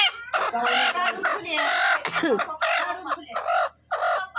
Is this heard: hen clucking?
yes